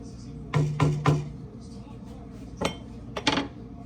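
Deer meat stew at a rolling boil in a pot, stirred with a metal utensil: several clanking scrapes in quick succession, then two more clinks a few seconds later over a low bubbling background.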